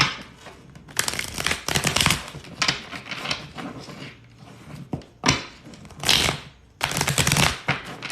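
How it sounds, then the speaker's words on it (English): A deck of tarot cards is shuffled in several quick riffling bursts, crisp and close, separated by short pauses. "Let me just give this one good shuffle."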